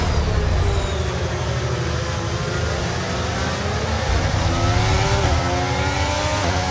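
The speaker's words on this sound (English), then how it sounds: "Have a listen to the engine." A high-revving Formula 1 car engine in the video game F1 23 at Bahrain drones steadily with rising and falling pitch, loud and continuous throughout, no voices.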